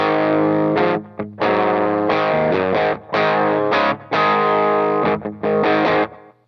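Distorted electric guitar through a DOD Gunslinger distortion pedal and a Behringer multi-effects unit set to quick delay plays chords and short phrases in bursts, each ringing with a quick echoing repeat, loud and close.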